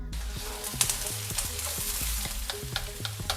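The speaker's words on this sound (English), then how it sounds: "we're gonna cook our onions until they're translucent" Onions and garlic frying in a pan with a steady sizzle, punctuated by repeated scraping and tapping of a utensil stirring them, heard close up with no talking.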